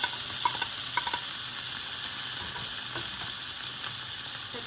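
Two cut tomatoes drop into a pan of frying garlic for chutney, setting off a loud, steady hiss of sizzling oil with scattered crackles and pops throughout, close up and without talk.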